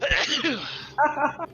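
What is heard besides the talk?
sneeze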